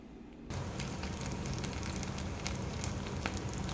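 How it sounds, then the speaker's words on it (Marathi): Batata vada fry in hot oil, coated in gram flour batter. The oil gives a steady, dense sizzle close by that starts abruptly after a quiet moment and then holds for several seconds with no talk. "आता बटाटे वडे मी तळते आहे"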